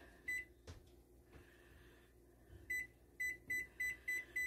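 A kitchen oven timer being set for a chicken pot pie, giving a series of short, evenly spaced electronic beeps, with a few near button presses and clunks between them and no talking.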